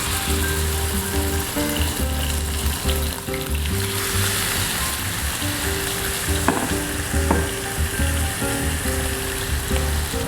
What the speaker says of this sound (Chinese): 再用小火慢慢煎。